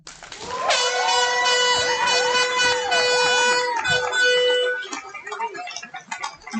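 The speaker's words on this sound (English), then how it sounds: "Best cheering crowd ever." A crowd cheers loudly for a graduate crossing the stage at the NSS Class of 2022 graduation ceremony, with sustained air-horn blasts and whoops dominating before the noise breaks into scattered shouts.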